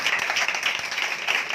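A church congregation at a Pentecost service applauds loudly, a dense, steady wash of clapping filling the whole moment without pause.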